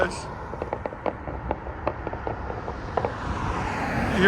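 A straight-piped BMW 550 with a true dual exhaust and quad tips gives a string of sharp little crackles and pops over a low idling rumble, moderately close and fairly faint.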